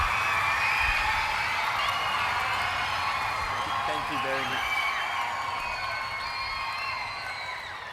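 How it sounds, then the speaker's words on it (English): An audience applauding and cheering after a speech at a young leaders event, a steady loud wash of clapping and crowd noise that slowly fades, with a voice speaking briefly over it. "Would you please give it a clap?"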